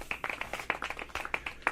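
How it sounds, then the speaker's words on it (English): Small group clapping, with quick irregular hand claps close by and no talking over them. "Clap it up"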